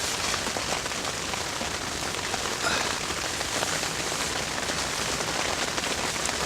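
Rain falls steadily on a cold morning at a carp fishing spot, a constant close hiss of drops with no voices.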